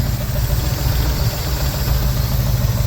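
A 1965 Ford F100 pickup truck engine idles steadily with a low, even rumble close by, with a faint constant vibration and no voices.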